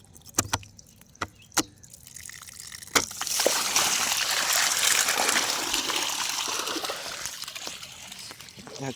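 Water gushing out of a farm pump, starting after a few sharp knocks and rising into a steady splashing rush, with voices talking nearby.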